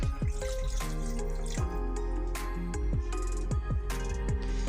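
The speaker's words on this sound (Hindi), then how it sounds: "अब मैं इसमें देखिए 1 कटोरी पानी डाल रही हूँ," About a cup of water poured from a small bowl into a jar still coated with masala paste, giving a close run of splashing drips and trickles that keeps going without a break.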